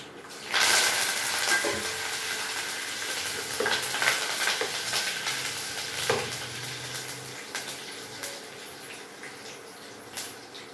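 Hot oil crackles and sizzles continuously as mustard seeds pop in a pan, with scattered sharp spits and occasional clinks of a utensil stirring.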